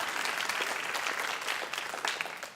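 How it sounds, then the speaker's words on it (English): Steady, dense audience clapping at a dance talk, sustained and fairly distant throughout the short stretch with no voices over it. "Yes, keep clapping, it's great."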